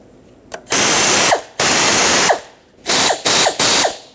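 Ratchet with an 8mm socket tightening a bolt on a 1998-2011 Ford Ranger 3.0L V6 during AC condenser replacement, loud close clicking bursts in several separate strokes with brief pauses between them.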